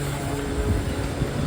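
Rumbling, steady rail noise from a Panvel-bound train at a crowded station platform, loud and close with a continuous low roar and rattling throughout the brief moment.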